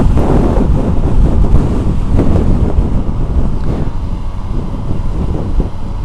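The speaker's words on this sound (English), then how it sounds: "Bit of a north wind, blowing me all over the place." Strong north wind buffets the microphone of a rider on a motorbike in loud, gusty rumbling bursts, steady and close throughout with no voices.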